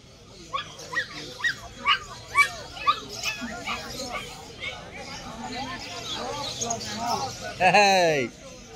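A 45-day-old long-coat German Shepherd puppy at a pet market gives a run of short, evenly spaced high yips and barks, then whimpers, with voices and market chatter around it.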